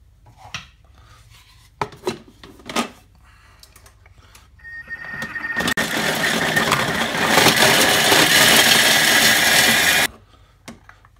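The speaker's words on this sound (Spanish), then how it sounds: "este trozo del centro que es más blando, lo vamos a triturar" The soft centre piece of a halved 200 g parmesan wedge is ground to powder for a Caesar salad dressing: a loud, dense, continuous whirring grind lasting about four seconds, preceded by a few sharp knocks and ending abruptly.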